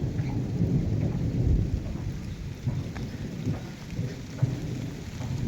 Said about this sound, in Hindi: ज़बरदस्त तेज़ हो रही है बारिश